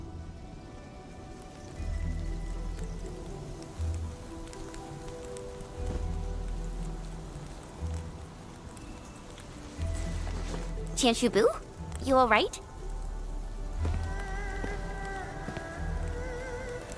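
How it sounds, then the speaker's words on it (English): Splattering rain in a gacha video game, a soft hiss of drops falling in repeated swells, with a voice speaking briefly over it partway through. "Splattering rain."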